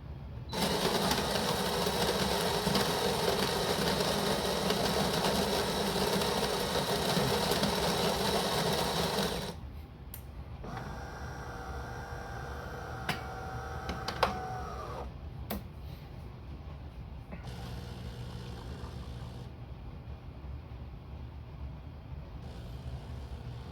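A De'Longhi Dinamica Plus bean-to-cup espresso machine grinds coffee beans with a loud, steady whirring drone for about nine seconds, then stops, and quieter machine hums and clicks follow.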